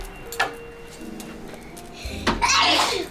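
A single sharp sneeze bursts out near the end, loud and close, following a quiet stretch with faint background noise.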